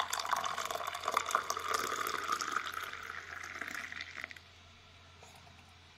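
Boiled hot milk pouring into a coffee and sugar mixture, a steady close liquid stream splashing for about four seconds, then stopping and leaving near silence.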